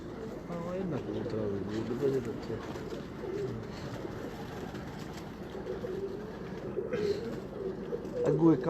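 Pigeons cooing on a rooftop, steady overlapping coos close by, with people talking throughout and some background noise.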